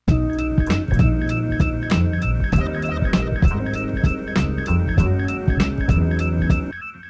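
A beat loop built on a sample: steady drum hits and a mellow keyboard sample repeat in a loud, continuous groove with no talking.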